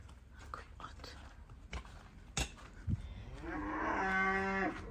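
Cattle at a rural Samegrelo, Georgia homestead give a loud, drawn-out moo near the end, preceded by scattered voices, footsteps and thumps in outdoor ambience.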